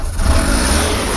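A Suzuki F6a engine on a 4x4 with a carburetor low-power problem revs up close, a loud, rough, sustained roar that swells briefly and holds, with no speech over it.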